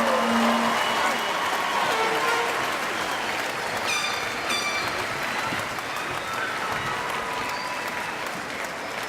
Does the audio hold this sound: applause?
yes